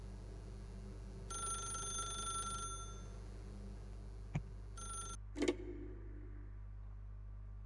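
An old-fashioned telephone bell rings in The Stanley Parable video game, two rattling bursts over a steady low hum, then a click as it stops.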